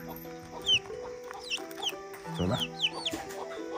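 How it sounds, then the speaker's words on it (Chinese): A mother hen clucks in low, repeated calls while her feathered young chicks answer with high, thin peeps, the two trading back and forth close by; a person speaks briefly under the calls. "这个鸡妈妈一直在找小鸡，然后这个小鸡也在找妈妈"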